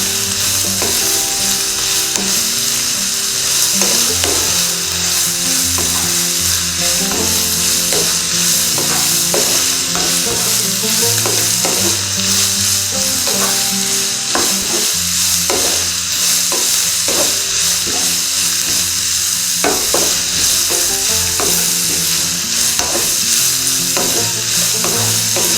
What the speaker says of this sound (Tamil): நல்லா கொஞ்சம் வதங்கணும்